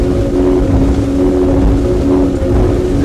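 A Sunseeker Hawk 38 powerboat runs flat out near 60 knots, its engines holding a loud, steady high-pitched drone over rushing water and wind.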